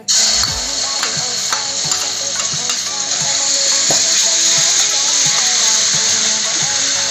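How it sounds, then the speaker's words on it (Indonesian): Ground spice paste sautéing in about two tablespoons of oil for Betawi-style chicken feet soup: loud continuous sizzling and hissing, with occasional stirring scrapes and clinks from the pan. "Langsung aja kita tumis bumbu halusnya ya."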